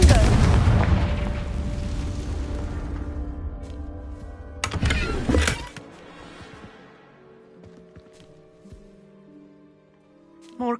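A Confringo fire spell bursts in a wizard video game: a loud booming blast that slowly fades, a second crackling burst midway, then quieter tones.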